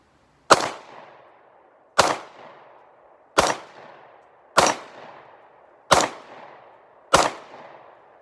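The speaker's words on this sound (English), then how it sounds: "I'm gonna shoot a few rounds and see what happens." Six sharp pistol shots from a Sig P365XL, evenly spaced about a second and a half apart, each a loud crack with a short decaying echo and no talking.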